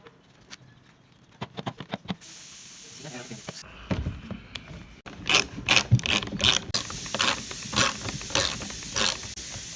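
Parts of a grass cutting machine are tightened during assembly with clicking, ratcheting and clattering metal sounds at close range, growing busier and louder in the second half while a person talks.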